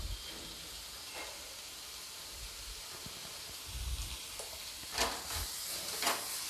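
Asafoetida (hing) dropped into hot oil for a bottle gourd kofta curry, giving a low steady sizzle with a few brighter crackling bursts toward the end, close and fairly quiet, no voices.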